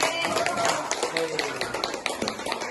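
A group of students in a classroom claps hands, a quick patter of sharp claps that stays under a teacher's voice.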